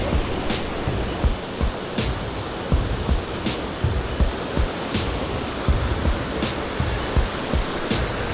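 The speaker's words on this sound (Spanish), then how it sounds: "Aquí en la curva ya está la cascada." Waterfall at Cascada de los Vientos, reached along a trekking trail, gives a steady broadband rush of falling water with splashy surges throughout, fairly close and continuous with no voices.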